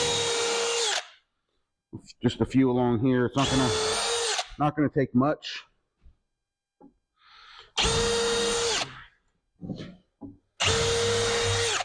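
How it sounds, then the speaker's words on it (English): A power drill pre-drilling a few screw holes through plywood, several loud bursts of steady whirring separated by pauses, with someone talking between the runs. "I'm just going to do a couple pre-drills."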